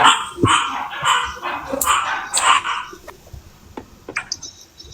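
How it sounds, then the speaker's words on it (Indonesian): Hungry dogs in a large pack bark in short, sharp bursts close by, the yelps clustered early and then thinning into scattered, fainter barks. "Anak-anakku lagi lapar jadi ngegonggong mereka"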